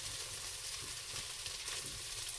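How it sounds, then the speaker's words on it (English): Peppers, potatoes and leftover ham sauté over raised heat in a pan, giving a soft, steady frying hiss with gentle crackle throughout, low in level and heard alone without speech. "Turn the fire up a little bit and get this to browning and sautéing"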